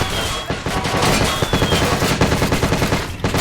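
Fast bursts of SMG fire in a toy war stop-motion battle, loud and close, with rapid rattling shots following one another through the whole stretch.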